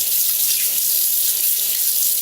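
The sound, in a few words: rinsing hands under a running water tap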